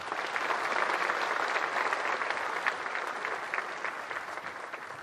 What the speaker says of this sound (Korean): 아산중학교 학생들에게 다시 한번 큰 박수 보내주시기 바랍니다.